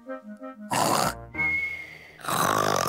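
A voice imitates loud snoring with rough, grunting snorts, broken by short pauses between the heavy inhaling and exhaling rasps.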